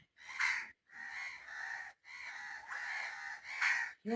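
Several birds circling overhead and calling, a run of harsh, drawn-out caws in short bursts separated by brief pauses, fairly clear and with no speech over them.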